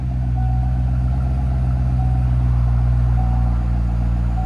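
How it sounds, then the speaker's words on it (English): A 2009 Chevy Corvette Z51 with a 6.2L V8 idling after a cold start with its Valvetronic Designs mufflers closed, giving a steady, subdued low rumble throughout and no revving. "Valves closed. Chevy Corvette Z51 with Valvetronic Designs mufflers."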